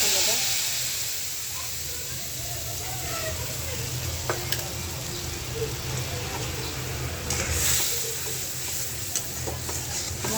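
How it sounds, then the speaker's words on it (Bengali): A ground spice paste that includes ginger fries in a pan for a cauliflower and potato curry, a constant soft hiss and sizzle close by with a few sharp utensil taps against the pan. "মশলাটা একটু কষায় নিই।"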